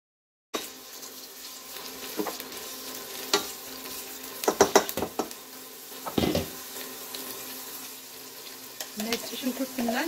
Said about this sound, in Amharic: አሁን ትንሽ አረጋለሁ። ቀይ ሽንኩርት ጨምራለሁ።